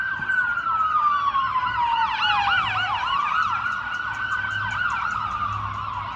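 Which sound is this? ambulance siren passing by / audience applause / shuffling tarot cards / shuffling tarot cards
ambulance siren passing by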